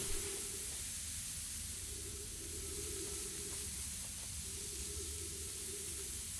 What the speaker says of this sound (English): sorry the sand is kind of loud